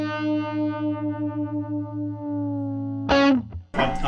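Electric guitar through a Univibe modulation effect at a high setting, a sustained chord throbbing with a regular pulsing sweep for about three seconds before two sharper picked notes ring out, loud with no talking.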